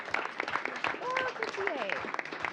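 Applause breaks out at a council committee meeting honoring the wrestling team, a steady patter of clapping with voices talking and calling out over it throughout.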